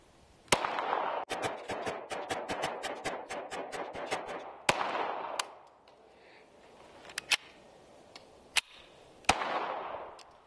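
Sig Sauer P322 pistol firing a long rapid string of sharp, close shots in quick succession, then pausing before several more scattered single shots.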